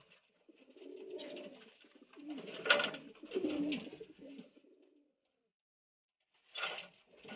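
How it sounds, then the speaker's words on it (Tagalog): Pigeons cooing inside a loft at night, several close, throaty rolling coos in bursts separated by silence. "Ayan mga kalapatids."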